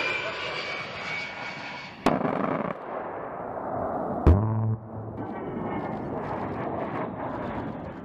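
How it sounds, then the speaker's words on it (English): An A-10 attack aircraft fires its GAU-8 Gatling gun: a jet engine drones steadily, broken by two sharp cracks, the second followed by a short, deep buzzing burst of rapid fire. "The rounds fired from an A-10 can destroy everything, including armor, in their path."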